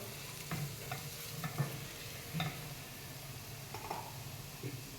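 Okra and potato stir-fry is stirred in a pan, with a handful of soft utensil scrapes and taps over a faint, low sizzle, no voices.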